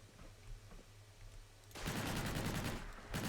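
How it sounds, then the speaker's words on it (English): Enemy explosive fire in Fallout 4, starting suddenly as a loud, dense burst of blasts and gunfire that fills the second half, briefly letting up before resuming. "they're shooting me with explosives now"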